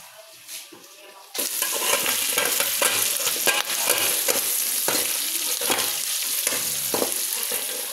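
Pork neck with ginger hits a hot pan and sizzles loudly, steady frying with scraping stirs and clinks from a utensil for several seconds after a quieter start.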